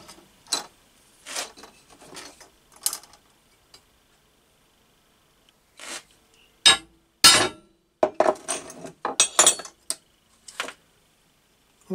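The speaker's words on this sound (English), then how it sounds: "So I'll centre punch that and we'll drill that out first." A hammer strikes a centre punch into a metal workpiece: close, sharp metallic taps, some single and some in quick clusters, with short pauses between and no talking.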